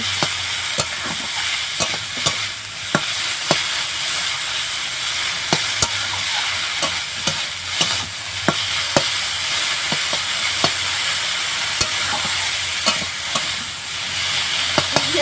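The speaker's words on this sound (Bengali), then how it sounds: "দিয়ে এইভাবে আমি খুব ভালো করে ফুলটা ভেজে নেব" Mustard flowers frying in a pan with salt and turmeric, a steady loud sizzle broken by frequent sharp scraping clicks of a spatula stirring throughout.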